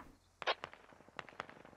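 Gunfire in the Squad video game during an assault on a hill, a scattered series of sharp cracks and pops at a moderate distance, several shots in uneven bursts.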